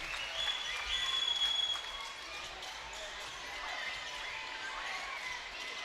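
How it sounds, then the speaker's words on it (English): A crowd at a Class 4A state high school basketball tournament game between Magnolia and Blytheville cheers and claps in a broad roar that peaks early and then settles into a steady din, with a commentator talking over it. "this Magnolia crowd on their feet"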